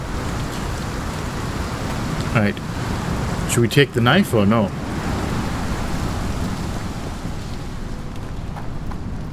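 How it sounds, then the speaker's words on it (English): Steady heavy rain hiss in a Sherlock Holmes video game fills the whole clip, with someone talking briefly over it midway. "I mean, it is raining, like, quite heavily."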